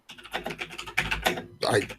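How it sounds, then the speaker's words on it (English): Rapid keyboard typing clatters steadily, with bursts of louder clicks and speech-like sounds mixed in. "just hear typing."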